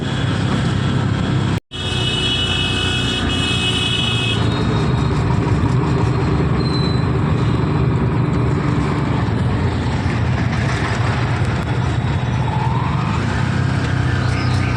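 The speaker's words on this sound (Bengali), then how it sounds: "ট্রেনটা ঘুরছে" A moving train rumbles steadily and loudly from close by at a fair, with a continuous low roar and brief higher whines.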